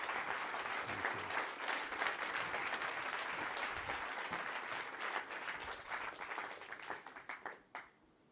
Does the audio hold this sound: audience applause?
yes